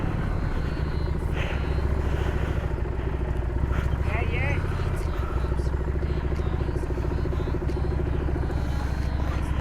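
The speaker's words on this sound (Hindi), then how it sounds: "आज देखते हैं अपनी हार्ले 750 स्ट्रीट कितनी कैपेबल है ऑफ रोडिंग के मामले में।" A Harley-Davidson Street 750 motorcycle rides off-road, its engine a steady, close rumble with clattering over rough ground, continuing throughout beneath people talking.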